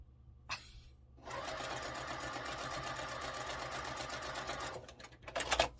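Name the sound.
sewing machine stitching quilt block fabric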